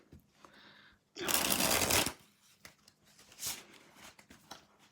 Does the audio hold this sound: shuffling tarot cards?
yes